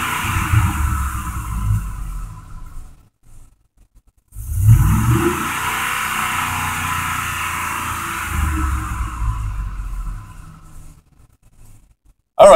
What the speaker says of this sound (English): another rev from this fucker